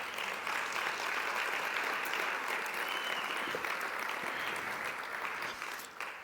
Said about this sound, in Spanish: Si lo cree, dele un fuerte aplauso al Señor.